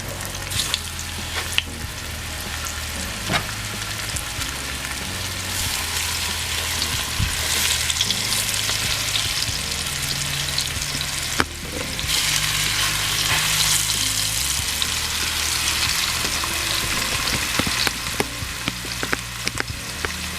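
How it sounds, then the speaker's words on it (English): Pieces of blue snapper steak fish sizzle and spit loudly in a hot frying pan for Jamaican brown stew, a dense continuous crackle with occasional sharper pops and scrapes, close up and without talk. "we're going to start putting our fish pieces into our frying pan."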